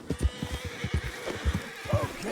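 American paint horse in the video game Red Dead Redemption 2 whinnying with a rising neigh near the end, over a run of rhythmic hoof thuds and snorts, close and moderately loud.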